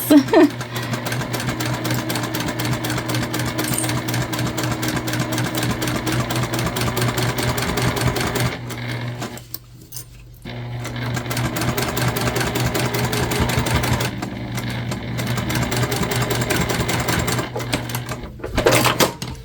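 A sewing machine stitches a knot handbag in a steady, close, continuous mechanical whir, pausing briefly midway and again near the end before resuming, with no talking.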